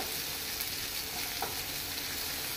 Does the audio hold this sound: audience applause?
no